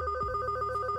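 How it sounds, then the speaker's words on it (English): A phone rings in the video game Heart Fragment, an electronic ringtone with a steady pulsing warble that is clear and close, with no voices. "you hear a ringing noise and your father takes his phone out of his pocket"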